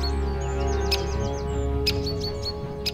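Small forest birds in the northern German mountains give repeated sharp chirping alarm calls at a pygmy owl, bursts of high notes over a steady low rumble of background noise.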